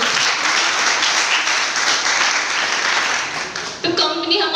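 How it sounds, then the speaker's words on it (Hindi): Loud applause from the audience at a DTM business meeting, sustained clapping filling the room for several seconds before tapering, then a voice cutting in at the end. "तो इस पे तालियां नहीं होनी चाहिए कंपनी के लिए।"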